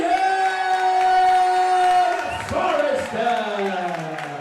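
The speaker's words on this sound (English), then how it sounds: "Big round of applause for Will Cairns" Crowd at a professional boxing event cheering loudly, with sustained shouts and whoops layered over an amplified voice, the noise dipping midway and then swelling again.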